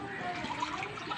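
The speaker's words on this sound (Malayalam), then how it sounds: "കുറച്ചും കൂടി വെള്ളം ഒഴിച്ചു." More water is poured into a pot of ash gourd curry with ground coconut paste, a close, brief gush and sloshing pour with a bubbly liquid wash and no talk over it.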